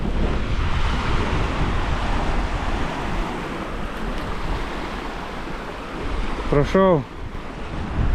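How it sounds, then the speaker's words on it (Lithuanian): Strong wind roars at a seashore in Morocco, buffeting the microphone with constant heavy gusts over crashing surf, ending with a brief electronic beeping tone near the end. "Be šansų kažką padaryti per tokį vėją ir baisiai ilgai pučia."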